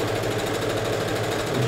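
A sewing machine runs a continuous seam along the fabric of a daycare baby bag, a steady close mechanical whir with a fast, even stitching rhythm and no pauses.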